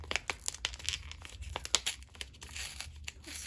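Paper packaging being torn open and crumpled while unboxing an order of Annie Stegg art items from Gallery Gerard: close, uneven bursts of ripping and crinkling at a steady busy pace, with no voices.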